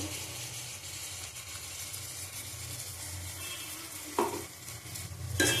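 Chicken kosha stir-fried in a pan, a constant sizzle with a few sharp scrapes and clanks of the spatula near the end.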